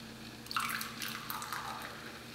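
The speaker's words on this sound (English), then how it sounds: "watch what happens when I add filtered water to it" Filtered water poured into a glass holding a little wheatgrass juice, a brief bright splash at the start followed by a steady, gentle liquid trickle and gurgle, close by and fairly quiet.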